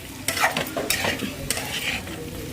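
Chicken pieces stirred and tossed in a hot frying pan, with a steady sizzle and repeated scraping strokes of a spoon against the pan, close and fairly loud, no voices.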